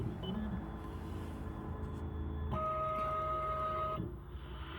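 A Key Man FullAuto+ automatic key cutting machine cuts a double-sided key, giving a steady low mechanical whir with a brief pair of higher electronic tones near the end. No one speaks.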